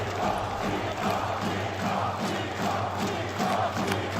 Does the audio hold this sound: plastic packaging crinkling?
no